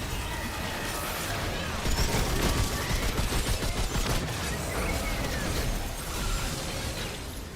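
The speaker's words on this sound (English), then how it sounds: "Oh, he's shooting my decoy, I think." Enemy gunfire in Remnant 2, aimed at a player's decoy, crackles as a dense, steady stream of rapid shots layered over busy game noise, with bursts peaking midway through.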